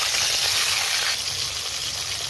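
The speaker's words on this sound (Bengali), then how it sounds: "তেলটা গরম হয়ে গেছে, এবার আমি মাছটা ভেজে নিব ভালো করে।" Pieces of rui fish frying in hot oil give off a loud, steady, close hissing sizzle that runs unbroken throughout, with no talk over it.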